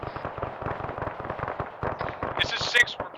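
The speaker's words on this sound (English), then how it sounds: "Get out of the way of that fucking auto cannon" Rapid auto cannon fire in the ArmA 3 military combat game: a steady, fast train of loud sharp bursts running continuously, with a brighter burst and crackle near the end.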